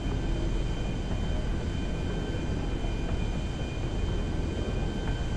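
Steady, loud engine roar and broadband hum inside a cargo plane in GTA 5, continuous and unchanging with faint tonal whines and no talking.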